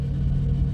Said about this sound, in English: I have started the truck. Engine is idling okay at low idle